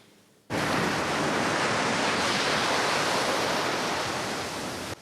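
Black Sea surf breaks on the shore at Odesa as a dense, loud, continuous roar of waves that starts abruptly and holds steady, with no voices.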